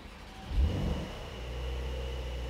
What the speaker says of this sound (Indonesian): Yang pengen kita dengar pertama suara mesinnya.